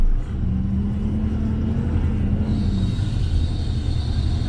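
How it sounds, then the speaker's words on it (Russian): Loud, steady low rumble of a Moscow city bus engine on route С216, with a droning resonant hum inside the vehicle that briefly shifts pitch. "резонация от двигателя"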